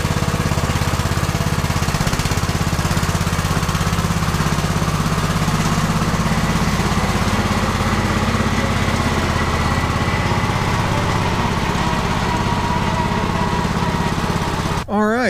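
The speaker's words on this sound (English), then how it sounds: "it's just like the whole top of the motor is trying to fall off while it runs" A riding lawn mower engine runs roughly at a loud, steady level, its top end shaking and rattling with every firing stroke; the sound continues unbroken for about fifteen seconds.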